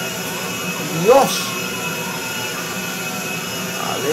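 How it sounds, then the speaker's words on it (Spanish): A commercial airliner's jet engine roars steadily in GTA V, a loud sustained drone with a brief swell, while a man exclaims over it. "No pensé que el control de los aviones comerciales fuera tan imposible. ¡Cómo suena, loco!"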